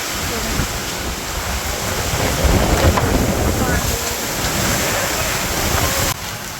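Dense, continuous patter of small hailstones pounding down, loud and steady, with strong gusting wind mixed in and little rain.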